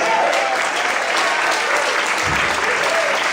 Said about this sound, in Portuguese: Quantos podem aplaudir o Senhor para isso?